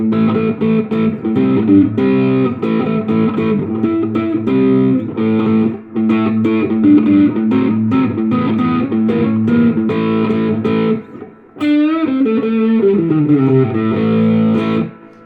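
Electric guitar through Joyo Tauren and J. Rockett Archer overdrive pedals plays loud, continuous chords and riffs, a short pause near the end before a sliding phrase resumes.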